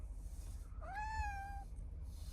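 A single cat meow rising then gently falling, clear and fairly close, heard alone over a steady low background hum inside a converted shuttle bus.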